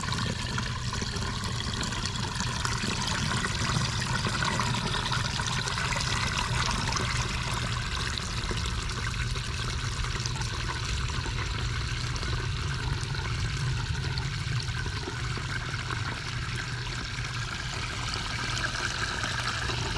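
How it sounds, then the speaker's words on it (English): A washing machine runs through a cycle and drains about 35 gallons of water to a new vertical soak-away, giving a steady, continuous rush and trickle of flowing water that holds at an even level throughout. "let's kick on this washer and run it through a cycle"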